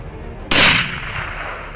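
A single hunting rifle shot fired at an antelope outdoors cracks sharply and loudly, then its echo rolls away and fades over about a second.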